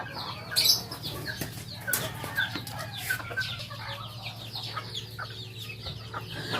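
Benjarong-colored Chabo bantam chickens cluck and chatter close by, with soft irregular calls and occasional wing rustles over a low background hum.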